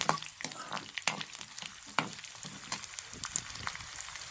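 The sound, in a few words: ingredients frying and being stirred in a pan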